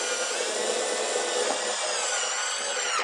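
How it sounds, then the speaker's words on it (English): A slim cap seating onto an ONDUVILLA roof hip and being screwed down gives a steady, close scraping, rubbing noise with sawing-like friction through the whole stretch, ending abruptly. "take the slim cap and install it by lining up these 2 embossment lines. You can actually hear it seat, and then just secure it with screws."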